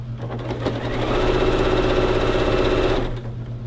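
Sewing machine stitching a skirt hem in one steady run, a loud, close mechanical whir that rises and then stops.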